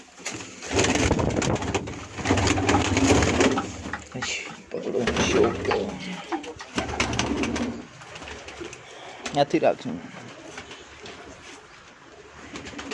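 A Batera pigeon coos on a rooftop in several drawn-out, low, throaty phrases. Someone speaks over and between the calls.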